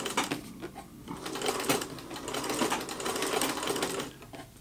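Treadle sewing machine stitching steadily, a rapid rattling clatter with slight swells in pace, fairly quiet and close, with no voices.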